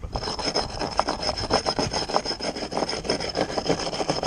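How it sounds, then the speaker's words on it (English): A worn wire brush scrubs brake-cleaner-soaked grime off an Aprilia RS125 rear wheel in a rapid run of harsh, rasping back-and-forth strokes, close and fairly loud with no talking. "we're using brake cleaner and a wire brush, just helps the majority of the shit off"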